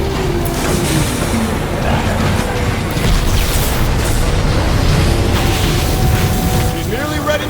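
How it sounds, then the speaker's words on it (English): Heavy, rumbling blasts from warp cannons strike shields in a Transformers video game. They form a dense, continuous barrage of booms and low roaring impacts, with voices talking over the din. "The shields are taking a beating from those warp cannons."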